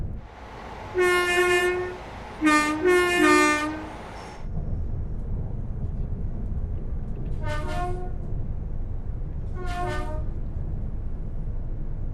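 A class 802 train on the Riviera line in Train Sim World 6 sounds two double horn blasts up front, then coasts with a steady low rumble, and two fainter horn-like tones sound later over the running noise.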